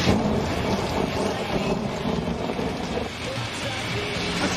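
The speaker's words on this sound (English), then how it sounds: "it was a dark and stormy night" A nighttime thunderstorm in the Georgia backwoods: heavy rain pours steadily with wind buffeting, and low rumbling thunder rolls beneath the continuous downpour throughout.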